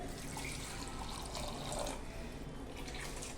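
Hot water pours and swirls steadily inside a mixer jar being rinsed, a continuous close rushing and sloshing with no voices.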